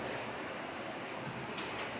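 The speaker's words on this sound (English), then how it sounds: "the water just comes out of here very slowly. As you can hear, it's moving." Water trickling slowly out of an ice cave near Decorah, Iowa, a steady soft wash of flowing water with a faint hiss, continuous and fairly quiet throughout with no voices.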